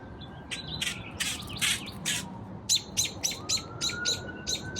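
Birds chirp and squawk in repeated short bursts of high calls, fairly close and clear over a low steady outdoor background, with no talking.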